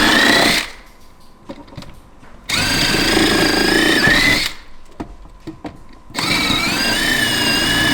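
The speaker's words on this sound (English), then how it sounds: "take your 1/4 inch drill bit, and go out at the edge of the speaker hole, and drill through the speaker box and into the floor pan" A power drill with a 1/4 inch bit bores through a subwoofer speaker box into the floor pan of a 2-seat 2019/2020 Can-Am Maverick X3, loud whining runs in two long bursts separated by quiet gaps with light clicks.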